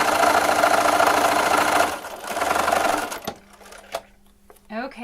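A sewing machine stitches quilt block side pieces together, running loud and steady for about three seconds, briefly pausing, then stopping, followed by a few faint clicks and a short voice.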